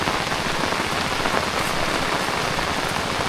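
Steady rain falls on a farm field in the Konkan countryside, a dense continuous patter of drops on surfaces, close and even throughout with no voices.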